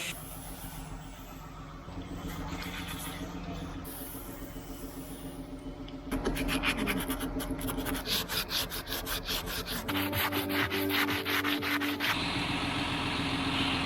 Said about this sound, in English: We need to keep on sanding the boat.